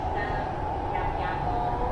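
Steady rumble and hum of an MRT orange line train car during the ride, a continuous close interior drone with faint talk beneath it.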